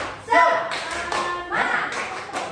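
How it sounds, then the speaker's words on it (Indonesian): A group of teachers does a rhythmic spirit clap together, a burst of sharp claps and taps in a patterned beat with voices chanting along, close and fairly loud in an indoor room. "Kelompok 1 tepuk semangat"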